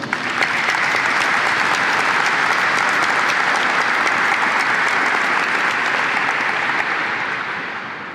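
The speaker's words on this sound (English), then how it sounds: "Let's give them a round of applause." Sustained applause from a large crowd at a military change of command ceremony, dense and steady for several seconds before tapering slightly at the end.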